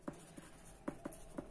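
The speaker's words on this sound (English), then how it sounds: "I'm writing it here" Chalk or marker on a board during a physics lesson on refraction of light, several short separate taps and strokes spread out, faint and fairly close, with no talking.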